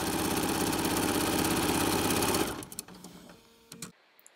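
A sewing machine stitches free-motion quilting designs on a quilt, running in a fast, loud, steady mechanical rattle for a couple of seconds, then stopping with a few faint clicks and thumps.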